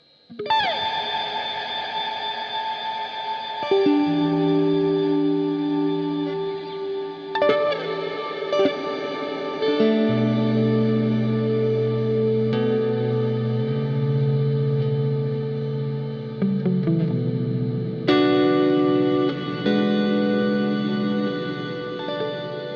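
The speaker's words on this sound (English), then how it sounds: "And lastly, we have an infinite plate." Sustained synthesizer chords through a DigiTech XP400 infinite plate reverb swell into a dense, shimmering wash that never fades, each new chord piling onto the lingering tail.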